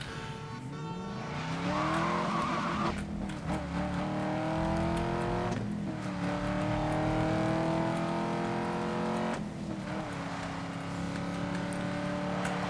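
A car in Need for Speed: Most Wanted (2012) accelerates hard, its loud engine climbing in pitch through several gear shifts with repeated rising sweeps and faint tyre squeal.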